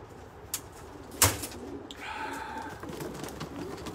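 Soft, low cooing from a racing pigeon in a loft basket, a steady murmur after a brief sharp knock, fairly close and moderately quiet.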